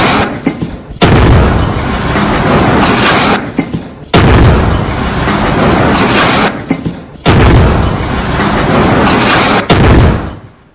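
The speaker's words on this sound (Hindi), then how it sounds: "उमर के घर पर धमाका किया गया और घर गिरा दिया गया।" An IED blast brings down a militant's house. The roaring explosion is heard three times, each loud, rumbling burst lasting about three seconds, separated by brief gaps.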